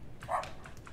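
A single short bark from a dog in a video game rings out, a quick yip with a low background hum and no other sounds around it.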